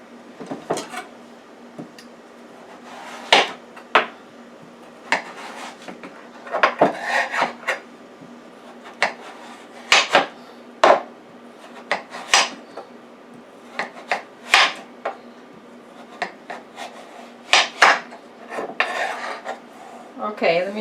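A knife slices through a raw butternut squash on a cutting board, about twenty sharp chopping thuds and crunches in an irregular rhythm, close and clear with no talk.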